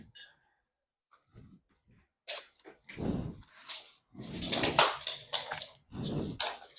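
Two dogs in a backyard garden make scattered, close bursts of snuffling, panting and scuffling noise with short quiet gaps between them.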